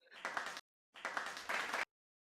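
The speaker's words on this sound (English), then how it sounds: "I'm trying to make the clapping noise go on in the background here" A clapping sound effect plays faintly in the background as two short bursts of quick applause-like claps separated by a brief gap.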